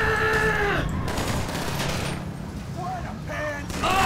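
Rapid gunfire from allied Marines in a GTA 5 zombie apocalypse mod crackles steadily through the clip, with someone talking over the shooting and game sound effects.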